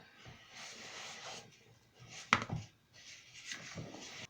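Margarine and sugar being creamed together in a bowl for a vegan chocolate cake: soft, close scraping and rubbing strokes of a utensil, with one sharper knock midway.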